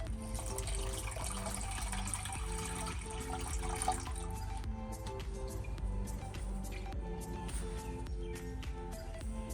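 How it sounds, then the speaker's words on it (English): Water runs steadily into a container, a continuous pouring gush with faint clinks and rising tone as it fills. "Just gonna add in some water."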